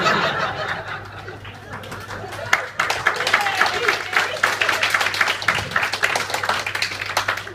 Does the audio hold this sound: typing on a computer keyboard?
no